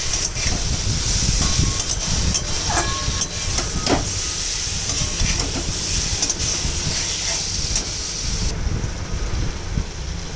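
Vegetable stalks and potatoes fry in a pan with a loud, continuous steamy hiss and scattered scraping clicks from stirring, the sizzle easing slightly near the end.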